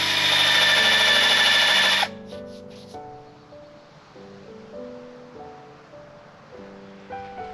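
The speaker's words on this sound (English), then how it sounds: "drill where I'm going to put the eyes" A power drill whines loudly for about two seconds boring into wood for an owl carving, then stops, leaving quiet steady tones in the background.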